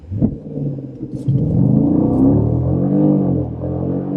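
A 2015 Jeep SRT engine at full throttle, a deep loud roar whose pitch climbs steadily as it accelerates, heard from inside the vehicle after a brief bump at the start.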